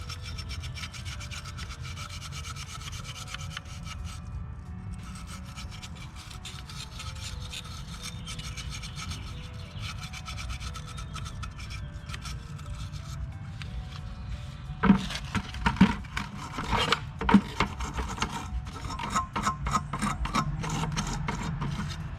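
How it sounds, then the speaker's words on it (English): Rust being scrubbed off a fuel pump assembly with a steady, close rasping rub that runs throughout, growing harsher with a few sharper scraping bursts toward the end; no talking. "we can get the rest of this rust cleaned off of here"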